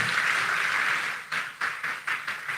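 Audience applause at an Edo summit honouring the governor, a broad wash of clapping that thins into scattered bursts and then trails off.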